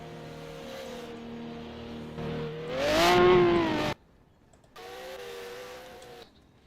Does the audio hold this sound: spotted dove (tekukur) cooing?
no